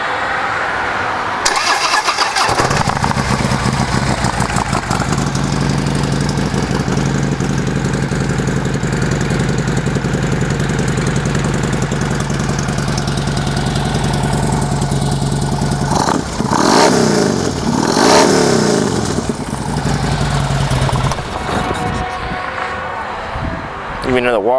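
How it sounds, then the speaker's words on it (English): A Harley-Davidson Ultra Limited FLHTK motorcycle with a 2-in-1 exhaust cranks and fires up early on, then runs at a loud, steady, close rumbling idle with a few throttle blips near the end. "Let's see how that 2-in-1 exhaust sounds."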